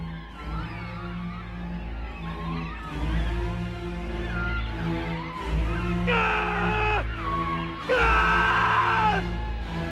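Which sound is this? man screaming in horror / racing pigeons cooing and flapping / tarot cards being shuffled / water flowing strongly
man screaming in horror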